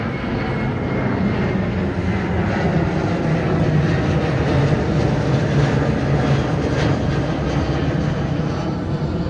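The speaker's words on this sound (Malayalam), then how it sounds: "WP7 ആണ് ലോക്കോമോട്ടീവ് വരുന്നത്." A WAP-7 electric locomotive heading the Kochuveli–Rishikesh express gives off a steady, loud, continuous rumble and hum that holds unchanged for the whole stretch, with no voices over it.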